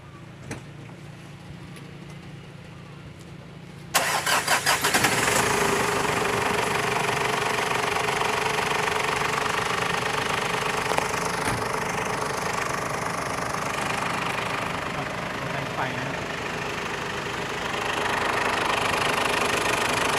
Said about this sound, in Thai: เคเดี๋ยวลองสตาร์ทรถดูกันนะครับ